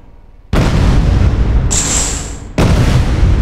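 A rocket blows up in mid-flight before impact in Space Engineers, fired from a small ship. A loud, sustained explosive roar starts abruptly, then a second heavy blast hits near the end, with a high whine in between.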